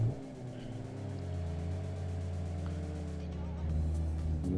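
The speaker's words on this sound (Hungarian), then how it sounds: "Rally autó!" A rally car roars past close by, its engine droning steadily before fading slightly, with a low rumble throughout.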